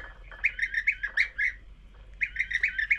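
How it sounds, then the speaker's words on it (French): European bee-eaters, migratory birds, call in two bursts of liquid rolling trills with a short pause between, close and distinct over a quiet low hum. "Les guêpiers d'Europe. C'est des oiseaux migrateurs"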